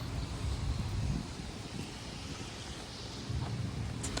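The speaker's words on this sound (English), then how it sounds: "It's a little bit windy and dreary." Steady wind from the approach of Hurricane Milton buffets the microphone with a broad rushing roar that swells and eases, no voices.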